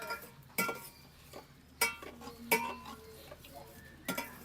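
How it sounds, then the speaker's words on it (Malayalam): Tomato sauce thickened with cornflour being stirred in a pan, with a spoon knocking and clinking against the metal in a few sharp, spaced strikes over quiet scraping, close and moderately loud. "ഇളക്കി ഇളക്കി ഇളക്കി കൊടുക്കണം അല്ലേ"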